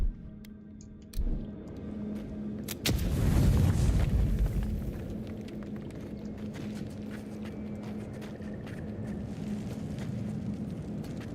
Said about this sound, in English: we can break this down with a grenade